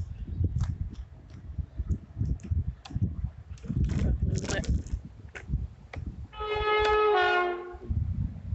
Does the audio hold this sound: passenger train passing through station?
yes